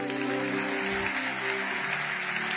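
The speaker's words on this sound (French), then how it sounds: "Quelqu'un acclame Jésus." A church congregation at a French-language worship service applauds and cheers, a dense, continuous wash of clapping and voices heard close.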